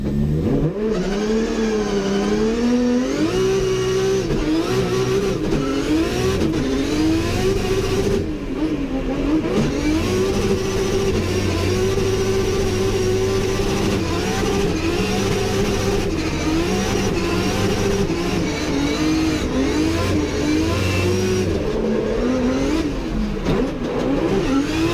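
A 750 bhp 2JZ-engined Nissan S14 drift car revs and accelerates hard and close, its engine note climbing and dropping repeatedly in a sustained, loud stretch with no pauses.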